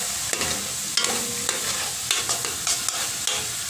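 Latik for biko is stirred in a pan over a wood fire, with a steady sizzle and repeated scraping strokes at a close, regular rhythm.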